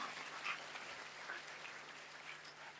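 A church congregation claps together during a Sunday worship service, a steady, dense patter of many hands that holds at an even level throughout without speech.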